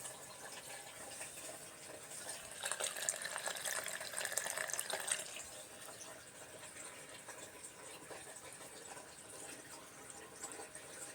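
Water runs and splashes from a 1930s galvanized plumbing drain trap into a bucket below, a steady close trickle that swells louder for a few seconds and then settles.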